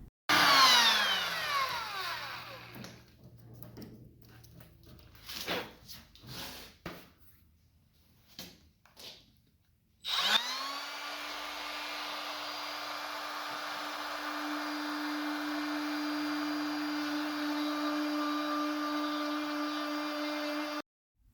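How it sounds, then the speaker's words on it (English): A palm router spins up partway through and runs at a steady high whine, loud and close, after a stretch of quieter clatter and handling. It is fitted with a small router bit for work on walnut. "I'm starting off with a small router bit in a palm router"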